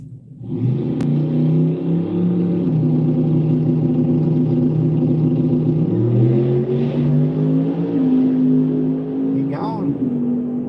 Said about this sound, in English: that's a fast truck